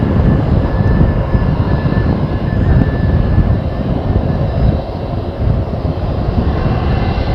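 A Qantas airliner lands firmly with smoke off the tyres, its engines roaring loud and close in a steady broadband rumble that dips briefly partway through before rising again.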